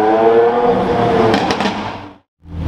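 A Lamborghini Aventador S passing nearby, a loud broad engine roar that holds and then cuts off abruptly before resuming, heard alone without talk.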